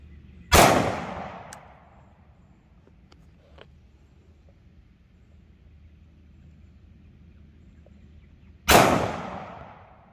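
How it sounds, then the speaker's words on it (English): Two loud, sharp gunshots from an XDM Elite 4.5" OSP 10mm pistol fired at wood outdoors, about eight seconds apart, each with a ringing decay and quiet ambience between. "I'm gonna shoot at wood so nothing interferes with noise"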